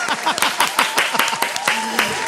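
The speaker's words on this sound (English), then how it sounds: "Play that clap track." A clap-track sound effect played on a podcast, heard as a run of sharp, evenly spaced claps under lively voices that talk and whoop over it.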